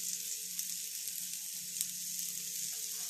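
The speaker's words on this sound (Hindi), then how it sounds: "लो फ्लेम पे हम इसे अच्छी तरह से फ्राई कर लेंगे" Paneer tikka frying on a low flame in a nonstick pan gives a steady, even sizzle with a few small pops, close and continuous, with no one talking.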